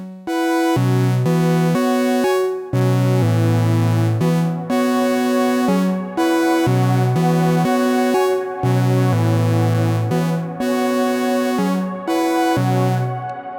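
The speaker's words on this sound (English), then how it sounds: "We can try adding some reverb." A loud USTA sequencer synth sequence built on a 3:2 ratio repeats brassy stacked chords in steady blocks, each chord sustained and washed in reverb, with no voices.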